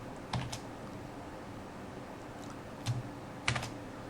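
Typing HTML code on a computer keyboard, with a few sparse, light key clicks spaced across a steady quiet room hum, close and soft.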